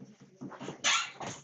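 A dog at home gives a few soft, muffled barks and whimpers in quick succession, fairly distant and quiet, with one louder bark near the middle.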